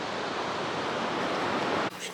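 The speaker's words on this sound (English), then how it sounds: "Enjoying the sound of the waves." Ocean waves wash onto a sunny San Diego beach by the Hotel del Coronado, a steady broad hiss of surf that fills the moment before cutting off abruptly near the end.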